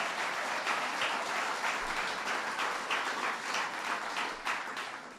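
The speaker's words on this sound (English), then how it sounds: "So let's give him a round of applause." Crowd at a state fair applauding a contest winner, dense sustained clapping with a few louder individual claps, steady throughout and gently fading at the end, no voices over it.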